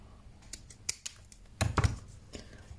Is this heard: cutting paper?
yes